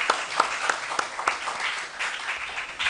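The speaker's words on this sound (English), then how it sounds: "Round of applause for them, please." Audience applause for a school quiz team, starting with a few sharp individual claps and then spreading into a softer, even patter from a moderately sized crowd.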